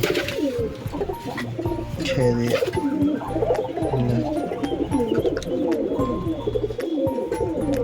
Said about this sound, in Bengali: সব পায়রা ঢুকে গেল